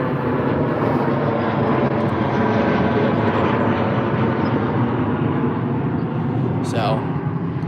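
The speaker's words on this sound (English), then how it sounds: "British Airways, A319 off to Edinburgh" A British Airways Airbus A319 takes off from Heathrow bound for Edinburgh, its jet engines producing a loud, continuous roar that holds steady throughout.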